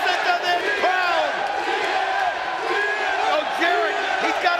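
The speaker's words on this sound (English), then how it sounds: "Listen to this crowd." Wrestling arena crowd at a pay-per-view event cheering and roaring in a big, sustained wall of voices, with swelling whoops and shouts rising and falling throughout.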